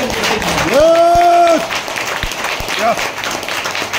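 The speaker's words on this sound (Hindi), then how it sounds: "तो एक बार जोरदार तालियां सर के लिए बजनी चाहिए।" Audience applause at a motivational talk in Jabalpur, crowd clapping under and around a loud amplified voice and sustained tones, with a few sharp claps standing out.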